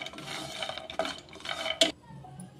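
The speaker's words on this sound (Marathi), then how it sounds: "त्यामुळे आपल्याला हे पूर्ण भाजून घ्यायचे, तुपावर परतून घ्यायचे" Nuts are stirred in ghee in a pan while being roasted for dry fruit modak. The spoon scrapes and clinks against the pan in short, uneven bursts, with a sharper knock near the end.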